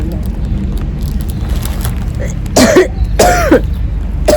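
A person coughing from the cold, two short harsh bursts close by, over steady outdoor traffic rumble while waiting for a bus on New Year's Eve.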